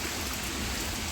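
Rain falls steadily in a village, making a dense, even hiss for a brief moment.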